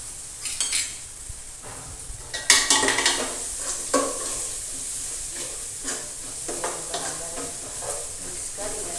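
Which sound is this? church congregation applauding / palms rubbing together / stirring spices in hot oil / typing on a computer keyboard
stirring spices in hot oil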